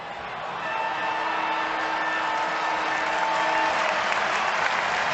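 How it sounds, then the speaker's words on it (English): St Kilda supporters clapping at quarter time of an AFL match against Geelong in 2009, a dense, sustained wash of applause from a large stadium crowd that swells after the first half-second and holds steady throughout. "So the St Kilda crowd rise in unison and clap"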